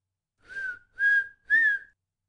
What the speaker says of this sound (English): just whistle that way to him